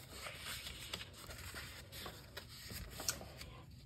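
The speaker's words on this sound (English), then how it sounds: "I'm going to fold that down and fold it up like an accordion" Scored cardstock for a triple diamond stair-step card being folded back and forth accordion-style at close range: a steady stream of soft crinkling, creasing and rubbing paper sounds with a few sharper crisp snaps, no voices.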